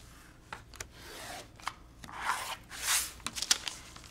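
Quiet snipping and sliding of scissors cutting quilt fabric along a marked line, a few soft crisp cuts and rustles close by, with no talking.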